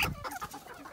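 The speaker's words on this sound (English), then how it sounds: "Yeah, is this chicken." A hen sitting on eggs gives soft, close clucks and low murmuring calls in a quick irregular run, with no voices over it.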